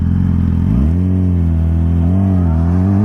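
A small moped engine revs close by, its pitch climbing sharply after a steady idle and then holding a loud, buzzing drone with slight wavering throughout.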